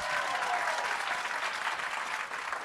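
Live-stream audience applauding a $1,000 grand prize announcement, a steady, dense wash of clapping that fills the whole stretch without pause.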